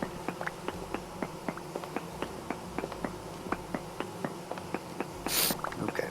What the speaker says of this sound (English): We're listening to the buzzing of bees as we dig.